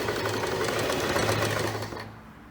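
Sewing machine stitching a blouse, beginning with a backstitch, running as a steady close mechanical whir with rapid needle ticks before easing off near the end.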